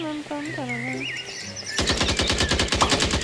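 Rapid automatic gunfire in the zombie video game ZombiesWaves, a dense loud volley running continuously for over a second after a stretch of voices talking.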